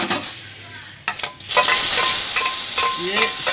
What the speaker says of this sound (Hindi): और उसके तुरंत बाद ये डालेंगे इसमें हम लहसुन का पेस्ट